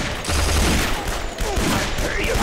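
Rapid gunfire bursts from the Guns, Gore & Cannoli versus mode, dense and loud throughout, layered with game effects and a voice talking over the action.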